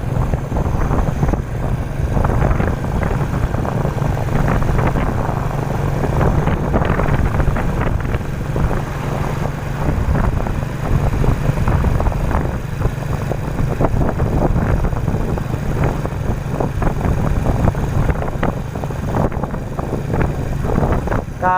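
Strong wind buffets the microphone on a road bypassing a town in Laos, making a loud, continuous, rumbling roar with gusty low-frequency thumps throughout and no other clear sounds.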